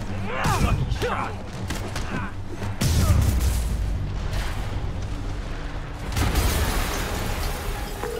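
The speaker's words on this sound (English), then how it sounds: "Yuri, an explosion just..." Explosion in the video game Marvel's Spider-Man Remastered, a deep booming blast with rumbling low-end bursts at several points amid dense game sound, with a voice speaking.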